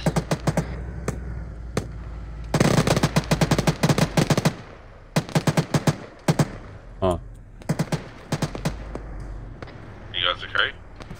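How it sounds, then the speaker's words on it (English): Rapid bursts and single gunshots crackle across a hillside in an Arma 3 military patrol battle, loud and repeated in clusters throughout, with a brief radio-like squeal near the end. "Shots from the hill east."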